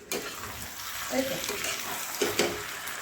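Pieces of goat liver rubbed with turmeric and salt hit a hot pan and sizzle, a loud burst at the start settling into a steady close hiss with a few brief clatters of stirring.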